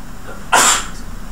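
A single short, sharp human sneeze bursts out mid-room during a mechanics lecture, loud and close against a quiet background.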